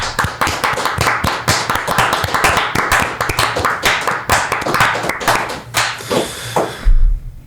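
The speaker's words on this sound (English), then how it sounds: "Round of applause for Shawnee" A small group in a podcast studio claps for a departing team member: close, loud, uneven handclaps for about seven seconds, ending abruptly.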